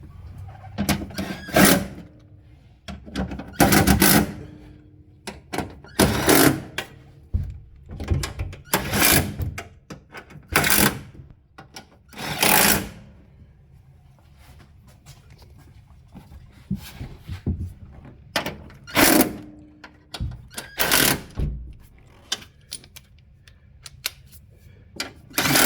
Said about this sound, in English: Going to tighten all the 12mm bolts.